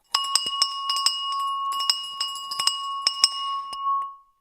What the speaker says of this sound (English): I got the bell ready.